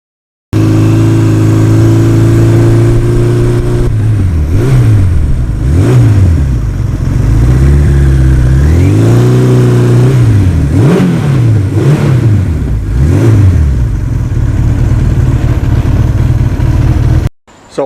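A 1982 Suzuki GS1100E motorcycle cruises on Route 80, its engine droning loud and close with repeated rises and falls in revs as it speeds up and shifts, over steady wind noise.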